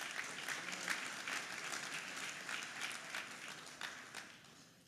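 An audience at a football press luncheon gives a round of applause, many hands clapping in a steady, fairly quiet patter heard from a distance, tapering off toward the end.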